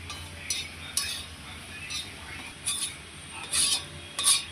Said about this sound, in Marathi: आता खोबरं भाजून घेऊया